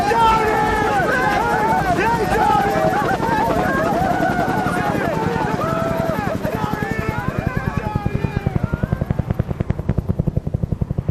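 Helicopters of the Chilean Air Rescue Service flying in to pick up survivors in the Andes, a loud steady rotor chop that turns into sharper, evenly spaced blade pulses toward the end, heard alone without talk.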